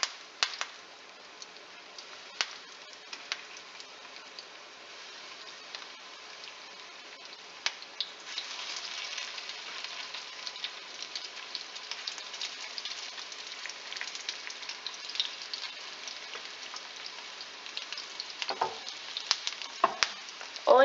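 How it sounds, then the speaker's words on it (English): Rollatini frying in a few tablespoons of hot vegetable oil in a pan, starting with scattered pops and then swelling into a steady, close sizzle with bursts of crackle near the end; no one speaks. "I'm using a few tablespoons of vegetable oil that we're going to fry in"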